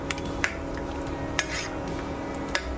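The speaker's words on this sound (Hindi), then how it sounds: "इससे आपको जो साउंड आ रहा है ना उससे पता चलता है कि पीनट भी अच्छे से फ्राई हो गया है" Peanuts roasting in a kadai: a steady dry rustling hiss runs throughout, broken by three sharp metallic clinks of stirring, close and moderately loud, with no talking.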